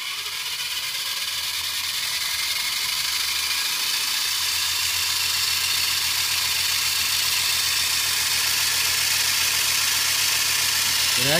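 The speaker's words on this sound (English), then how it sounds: "So go ahead and start your engine" A small model jet engine runs steadily during a wind tunnel test, giving a continuous loud roaring whine with constant hiss that holds evenly from start to finish, no voices.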